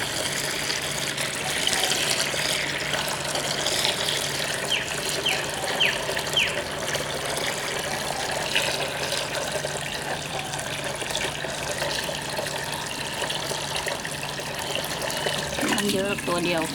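Water pours steadily into a container for tie-dye, a continuous close gushing and splashing that runs for the whole stretch and ends with a brief disturbance near the end.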